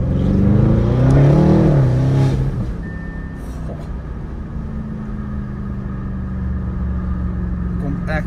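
Audi RS7 tuned to 840 hp revving hard close by, its engine note climbing and wavering for a couple of seconds before dropping back to a deep, rumbling idle.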